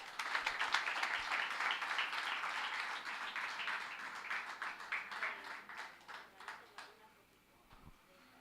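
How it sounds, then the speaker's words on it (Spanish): A church congregation breaks into applause after a prayer, loud and full at first, then fading into scattered claps that die away toward the end. "un aplauso ahora sí para..."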